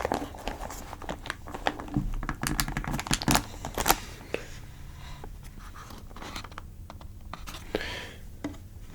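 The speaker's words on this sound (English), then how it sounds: "So, just going to take this out of the box now." A MagForce 68 keyboard is lifted out of its tight foam-packed box, giving close, soft crinkles, scrapes and sharp taps in irregular bursts, louder early and quieter near the end, with no talking.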